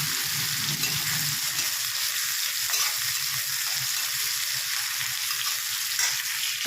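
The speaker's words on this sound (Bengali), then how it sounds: "একদিকে পেঁয়াজ রসুন ভাজা হচ্ছে" Onion and two garlic cloves fry in a pan, giving an even, continuous sizzle close by with a faint low rumble under it and no voices.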